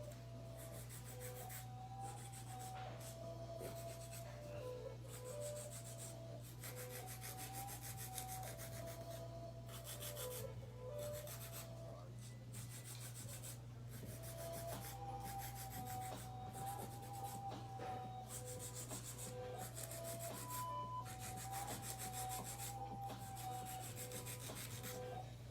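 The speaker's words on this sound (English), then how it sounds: "I'm buffing and I'm gonna go right into top coating." Acrylic almond-shaped nails being buffed, giving a soft, continuous rapid rubbing and scraping in quick strokes, close up and fairly quiet over a steady low hum, with no talking.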